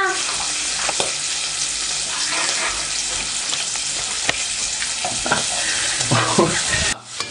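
Pork fat renders and sizzles steadily in a pan for amatriciana, a dense crackling hiss throughout with occasional spoon scrapes and taps, until a sharp drop near the end.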